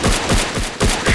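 Gunfire in the online FPS game Online Strike, several sharp shots fired in quick rhythmic bursts, loud and close, with no talking.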